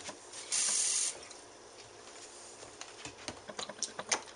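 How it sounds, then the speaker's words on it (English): A short burst of water pours for about half a second into a thick dog ice cream mixture of tuna, bacon, peanut butter, cheese and milk, followed by soft stirring and scattered light taps close by. "I'm going to add a bit more water."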